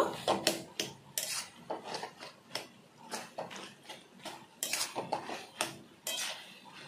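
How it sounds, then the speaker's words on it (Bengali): Boiled mixed vegetables are stirred and mashed in a pan, with irregular close clatters and scrapes of a utensil against metal and soft squashing rubs between them. "এখন সবজিগুলোকে এইভাবে ঘেঁটে দেব।"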